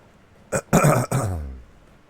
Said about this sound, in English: I'm sorry, guys, for coughing in your ears